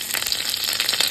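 Curry leaves, chilli and ginger hit hot oil already heated with mustard seeds and cumin, giving a loud, steady, close sizzle that crackles without a break and has no voices over it.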